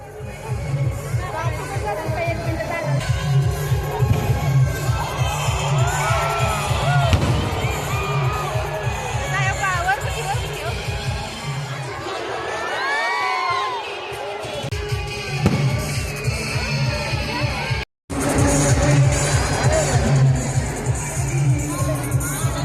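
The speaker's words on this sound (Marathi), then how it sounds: "लाखो रुपयांची फटाक्यांची आतिषबाजी" Festival fireworks burst at a Nathashtami celebration in Vita in a dense, continuous crackling barrage with rapid booms, while a crowd murmurs and calls out loudly throughout and a brief silence falls near the end.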